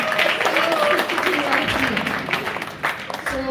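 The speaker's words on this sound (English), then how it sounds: "Please, an applause for Cameroon as well." Applause from a crowd fills the clip, steady at first and thinning slightly toward the end, with a voice faintly present underneath.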